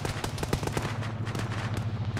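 Rapid bursts of automatic gunfire aimed at a technical vehicle in an Arma-style ShackTac military game, loud and close, with sharp repeated shots over a steady low rumble.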